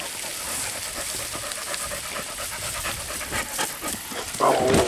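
A wet dog panting close by, rapid rhythmic huffing breaths repeated steadily, ending with a brief louder burst of sound.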